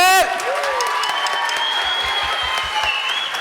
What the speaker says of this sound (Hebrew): אז תעשו לו כפיים.